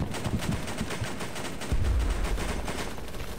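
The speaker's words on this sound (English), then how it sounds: "Where did that shot come from?" BattleBit Remastered gunfire in rapid automatic bursts, with repeated sharp cracks over a dense battle background and a heavier, closer volley landing midway through.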